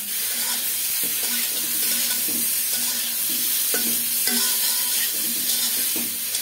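Eggplant frying in a pan sizzles steadily up close while a utensil stirs and scrapes against the pan in repeated strokes, with no voices.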